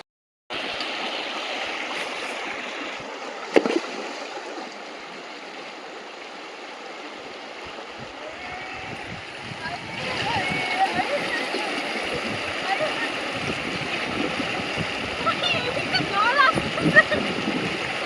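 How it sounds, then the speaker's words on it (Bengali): Water rushing and splashing at a sunny scenic outdoor spot, a continuous broadband stream that grows louder partway through, with people talking faintly over it. "জলের আওয়াজ"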